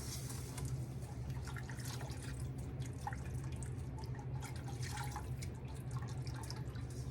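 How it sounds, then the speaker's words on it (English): Water poured into a pan sauce sizzles and bubbles in a steady, continuous wash of sound with a low hum underneath, moderately quiet and unbroken, with no one talking. "let's start adding some water in."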